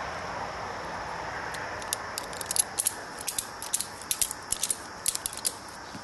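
Sharp, quiet mechanical clicks from a video camera arm mount used for filming hunts, starting sparse and then coming in quick irregular bursts, close up over faint background hiss.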